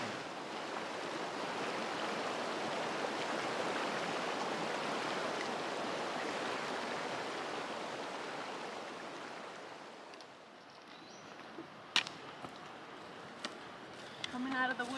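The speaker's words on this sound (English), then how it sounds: "There's my precious creek." A mountain creek flowing along a backcountry hiking trail between Glacier National Park and Mount Robson, a steady broadband rush of running water that fills most of the clip, easing off near the end as a few sharp clicks and footstep-like knocks break through.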